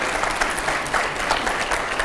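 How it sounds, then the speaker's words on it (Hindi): A studio audience at a televised interview applauds, with steady, dense clapping that lasts the whole moment. "बस जरा तालियां हो जाए इसके लिए।"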